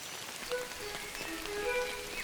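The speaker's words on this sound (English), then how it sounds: "this is probably one of the biggest challenges when you record rain sounds in the forest" Rain falling in a forest: dense, steady patter of drops on leaves and surfaces, with a few louder nearby drips standing out against the soft continuous wash.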